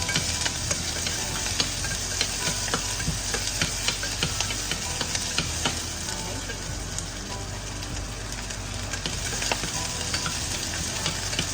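Onions sizzle and crackle in hot oil, a steady frying hiss with scattered pops and occasional stirring scrapes; no clear talking.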